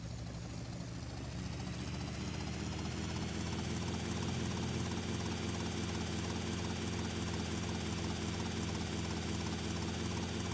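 A helicopter in GTA: Vice City makes a continuous, loud rotor and engine drone that holds steady from start to finish with no voices.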